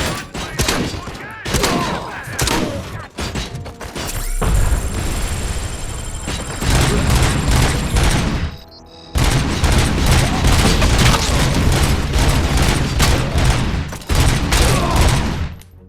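Gunfire and explosions in the RoboCop: Rogue City video game, loud rapid bursts of shots and heavy booms in clusters with a short lull, while a player talks over the action.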